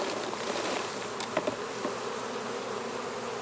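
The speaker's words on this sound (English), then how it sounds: "So I'm just going to shake these bees into this container and get a ½ cup." Honey bees buzz continuously as they are shaken from a frame into a container, a close, steady droning hum with a few brief knocks and bumps.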